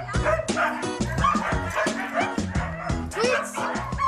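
Excited sled dogs keep up a loud, overlapping chorus of barks, yips and whines close by, with faint human voices mixed in.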